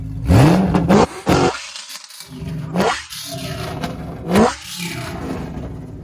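A Ford GT500's engine heard from behind the car, with several loud, sharp revs rising and falling at close range and brief gaps between them, a rattly burble underneath.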